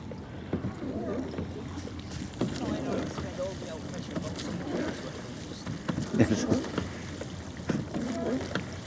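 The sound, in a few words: rowing boat on the water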